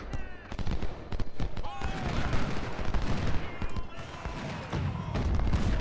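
Civil War artillery and musket fire from Ultimate General: Civil War, counter-battery shelling on a Georgia battery, rolls as a loud, dense run of overlapping shots and booms with scattered sharp cracks, sustained throughout with faint talk beneath.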